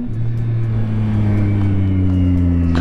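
A 2025 Yamaha XSR900GP motorcycle engine drones steadily and loudly up close, its low rumbling note holding with a slight rise in pitch, alone without talk.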